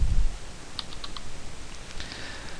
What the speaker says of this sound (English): So we type those numbers in